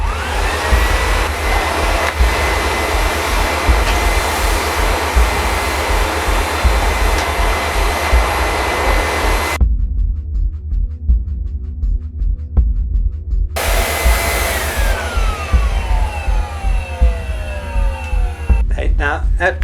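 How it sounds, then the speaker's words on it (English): A loud, steady vacuum cleaner drone on carpet runs throughout, cutting out briefly in the middle before starting up again with a rising whine. "so as long as you hoover it, give it a good vacuum, it will be okay"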